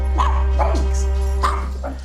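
A small dog yaps close and loud in a few quick, high, sharp barks with brief whimpery edges, over a low steady background hum.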